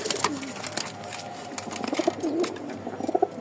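Several Rajshahi flying pigeons coo close by in soft, throaty bursts, with a few scattered calls over a low background hum and occasional rustling.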